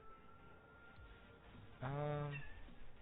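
A cat gives a single short meow, close but quiet, over a low steady background.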